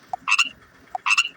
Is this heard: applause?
no